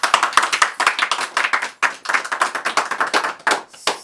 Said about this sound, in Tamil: அவங்களுக்கு ஒரு கைத்தட்டல் கொடுக்க மாட்டீங்களா?